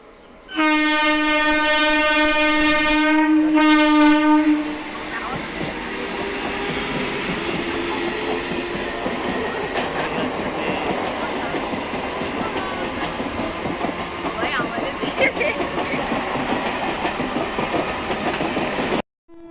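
A loud train horn blasts for several seconds, then a train rumbles and rattles past steadily, carriages clacking along the track nearby.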